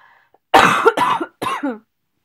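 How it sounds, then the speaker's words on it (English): A sharp burst of three harsh coughs in quick succession, close and loud, after a brief quiet moment. "have you guys ever had the cough where like you're fine 1 second and then all of a sudden it attacks you?"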